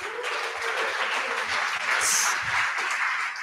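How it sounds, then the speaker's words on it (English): An audience applauds at a hackathon closing ceremony, a dense, steady wash of clapping from many hands that carries on throughout, fairly loud and slightly distant, with no speech. "Let's give them a round of applause."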